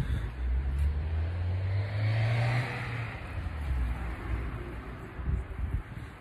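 An old Caddy van on the move, its low engine drone rising and easing steadily alongside wind noise, heard from inside the cab with no talking.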